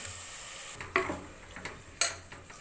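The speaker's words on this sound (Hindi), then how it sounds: "ये मसाले के अंदर अब ये ड्रमस्टिक डालेंगे, मूंगे की फली" Drumsticks (moringa pods) fry in a masala of black pepper powder and garam masala while being stirred, with a soft sizzle broken by a few sharp scrapes and clinks of a utensil against the pan.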